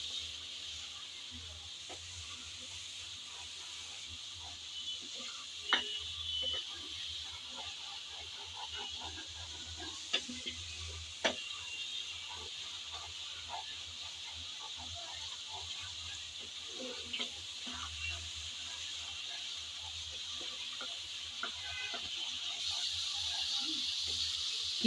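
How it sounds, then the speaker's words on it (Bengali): Spice paste for a taro curry sizzles softly in hot oil as it is stirred, a quiet, continuous hiss with scattered faint scrapes and clicks. "মশলাটা দিয়ে তারপর নেড়ে চেড়ে আবার ভালোভাবে কষিয়ে নিতে হবে।"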